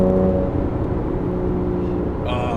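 A 2006 Porsche Boxster S fitted with a valved catback exhaust idles and drones loudly up close, holding a steady throaty tone.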